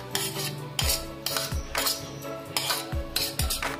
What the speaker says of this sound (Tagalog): paghahalo-haloin na po natin lahat ng sangkap